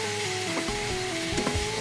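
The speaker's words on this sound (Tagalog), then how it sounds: "Ipiprito muna natin ang konti bago natin laki yung ating mga ingredients." Kare-kare mix frying in a pan for chicken kare-kare, giving a constant loud sizzle with a few scraping stirs and soft knocks scattered through it.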